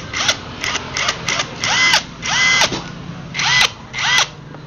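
A cordless impact wrench with two batteries fires in about eight short, loud whirring bursts of varying length, with brief pauses between them.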